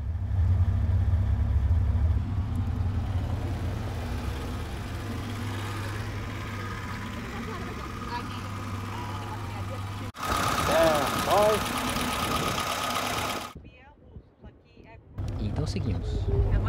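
A 1976 Lada car engine idles with a low, steady rumble and a light knock for the first ten seconds, then gives way to other noises.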